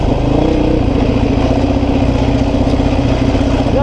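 2005 Honda CRF450X dirt bike engine while riding, a loud, close, steady throbbing drone with a constant low growl throughout.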